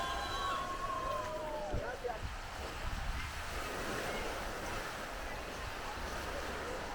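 Ocean surf rolls in continuously at Jobos Beach in Isabela, Puerto Rico, as a steady broadband wash mixed with wind buffeting the microphone.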